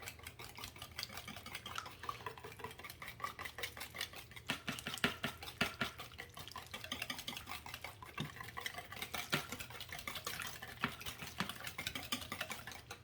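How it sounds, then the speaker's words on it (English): Eggs and sugar whisked in a bowl, producing a fast, continuous clicking and scraping rhythm of the whisk against the bowl, close and fairly quiet, with no talking. "Whisk it really, really well. Make sure the eggs and the sugar all get incorporated."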